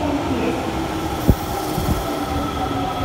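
Osaka Metro subway train at a station platform, a steady rumble and rail noise with a brief sharp clack of wheels over a joint, no talk.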